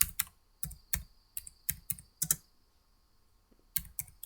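Keys clack on a computer keyboard in short bursts of paired presses, close and distinct, with a brief pause midway before a final quick pair; no talking.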